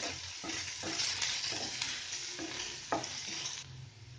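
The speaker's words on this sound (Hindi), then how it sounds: "ऐसे भूनेंगे" An onion tadka with asafoetida frying in a pan, a continuous close sizzle broken by regular scraping strokes of a stirring spoon.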